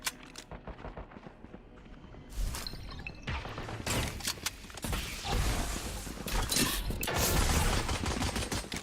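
Gunfire in the tactical shooter Valorant during a competitive esports match at the B main area, with scattered bursts of spammed shots, footsteps and clatter over busy game sound.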